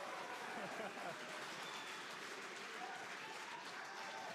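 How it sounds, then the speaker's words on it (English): A crowd cheers and applauds continuously during a SpaceX Polaris spacewalk broadcast, a dense, steady wash of clapping and whooping at even loudness throughout. "the crowd is about to go wild"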